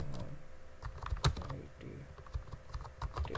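Typing on a computer keyboard, a quick run of close key clicks with uneven rhythm, one louder tap partway through, over low room noise.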